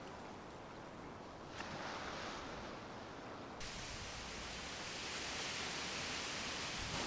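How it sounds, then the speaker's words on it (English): Strong wind roars outdoors in stormy weather, a steady broadband rush with gusts that swell and grow louder toward the end, with no talking. "It is so windy"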